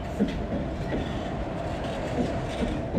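A train rumbles steadily with faint clattering wheels, a continuous low roar as it pulls into a station on the Jalna–Kalyan railway route.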